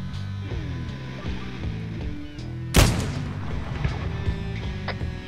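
Gunfire in a tactical game, one sharp loud report close by, followed by fainter echoing shots amid steady mechanical background hum.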